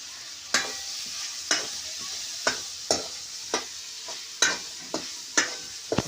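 Peas and potatoes sizzle steadily in a hot pan over a wood-fired clay stove, a constant crackling hiss broken by sharp scraping strokes of a spatula every second or so.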